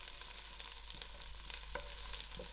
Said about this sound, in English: I'll allow this jeera to fry a little before adding my mustard seed.